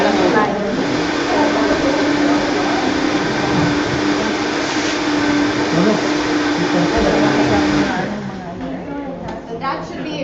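A Vitamix blender roars at a loud, steady whir for about eight seconds, then eases to a lower, rougher drone, with faint talk in the background.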